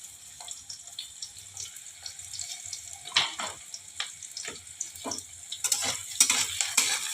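Onion browning in a pan with a spoonful of sugar, a soft steady sizzle broken by scattered stirring scrapes and clinks, fairly close and moderately quiet, with no voices.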